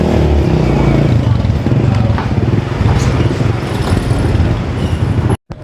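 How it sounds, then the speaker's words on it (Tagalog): A motorcycle engine rumbles loud and close while being ridden and slowed to park near Biñan market, with traffic around and a voice talking over it before the sound cuts out abruptly. "Hanap po tayo ng mapaparkingan ng motor."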